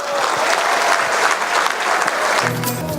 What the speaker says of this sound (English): So everyone, a round of applause and a big wow, don't be shy, say it.